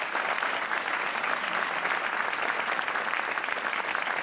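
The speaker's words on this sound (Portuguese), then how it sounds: "um aplauso para a Inês" A studio audience applauds at a Portuguese TV talk show, steady dense clapping that stays loud and even throughout, with no voices over it.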